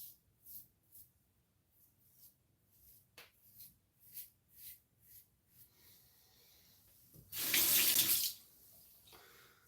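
A tap runs in a strong, steady burst for about a second and a half while a razor is rinsed under it during a beard shave, after quieter scattered scraping and rustling sounds.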